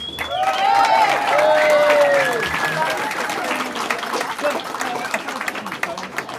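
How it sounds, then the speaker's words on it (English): Applause and cheering break out from supporters at a Victorian political campaign event in Melbourne, loud and sustained at first, then thinning into scattered clapping and crowd noise with voices mixed in. "Give them all a round of applause, guys"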